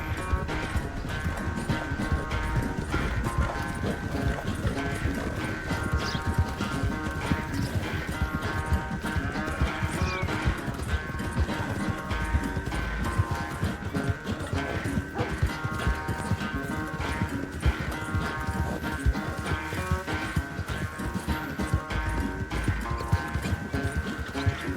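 Horses gallop in a race in the video game Red Dead Redemption 2, a steady dense clip-clop of hooves running continuously under game music and ambient noise, loud and sustained throughout.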